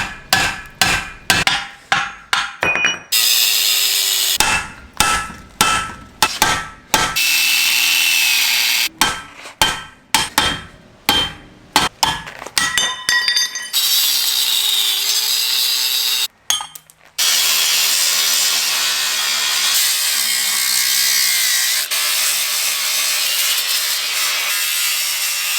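Chiseling with a hammer and a Harbor Freight chisel on a Range Rover camper project: a rapid series of sharp metallic strikes in uneven bursts, followed by a long, steady grinding or rasping noise, with no voices.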